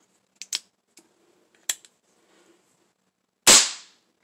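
A homemade percussion cap goes off on a gun as one sharp, loud crack, preceded by a few faint mechanical clicks from handling, close and without talk.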